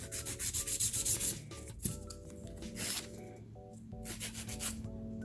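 A nail file rasps over a stiletto-shaped gel capsule nail extension in quick rhythmic back-and-forth strokes close up, with pauses between bursts and a faint tonal hum in the background.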